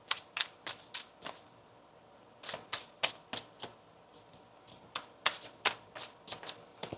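Tarot cards are shuffled close by in a quiet room, a string of crisp riffling bursts arriving in irregular quick clusters with short pauses between them.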